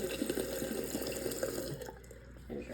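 Water running steadily from a faucet in a house, a continuous close splashing that cuts off near the end with a faint trickle after.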